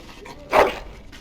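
A dog in the fantasy video game Dragon Age: Origins gives one short, loud whimpering yelp against a quiet game background.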